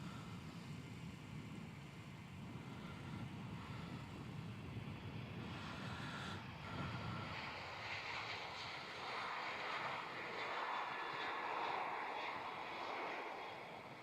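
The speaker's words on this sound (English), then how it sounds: "try and capture the background noise of the takeoff" A large aircraft takes off at Melbourne Airport, its engine roar building gradually as a broad, steady rumble with a rising hiss, heard from a distance and alone, with no voices.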